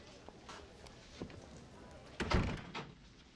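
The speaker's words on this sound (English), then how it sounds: "Do you want to maybe close the door?" An indoor door thuds shut with a single solid knock near the end, preceded by faint shuffling and quieter handling noises, with no talk during the close.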